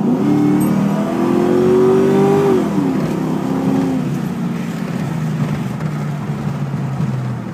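A 2002 Mustang GT V8 accelerates hard from inside the car, engine roaring loud and rising in pitch, then dropping after a gear change as the revs climb again under steady road noise.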